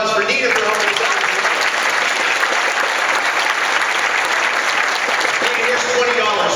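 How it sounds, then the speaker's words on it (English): A live comedy and magic show audience breaks into loud, sustained applause for a volunteer named Nina, a dense wash of clapping that fills the whole stretch, with some voices mixed in. "a big round of applause for Nina for helping us out"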